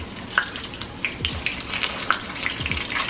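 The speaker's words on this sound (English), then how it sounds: "But you're probably not used to frying the rice paper." Steady sizzling and crackling of rice paper frying in hot oil, with small pops and bubbling throughout, fairly close.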